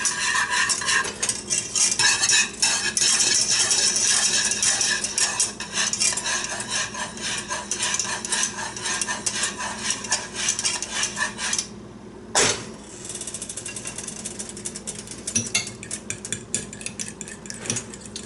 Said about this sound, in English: So beat on my egg yolks a little bit more.